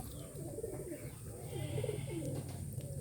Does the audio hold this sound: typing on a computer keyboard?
no